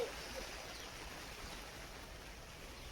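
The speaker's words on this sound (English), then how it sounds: "Oh my god, this rain's coming down now." Heavy rain drums steadily on a tent during a downpour while flags are being laid, a dense, continuous hiss close by with no voices.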